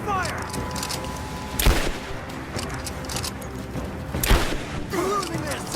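Gunfire from enemy soldiers during a firefight in Rise of the Tomb Raider, with two loud sharp blasts standing out over a steady clatter of battle noise and brief voice-like sounds.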